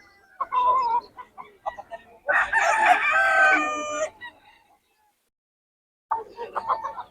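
A rooster gives one long, loud crow up close among fowl at a market, with clucking and short calls before and after and quiet gaps in between.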